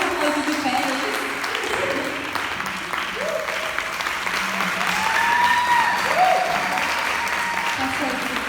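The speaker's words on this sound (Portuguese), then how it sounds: "Vamos aplaudir de pé" An audience applauds steadily through a standing ovation at a youth panel held in a church setting, the clapping filling the whole stretch at fairly constant loudness, with some voices and singing-like tones rising over it.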